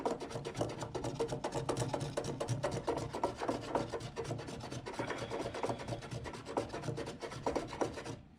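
Rapid rasping strokes of sanding on Bondo filler spread over wood, a steady close scraping rhythm running continuously without pause.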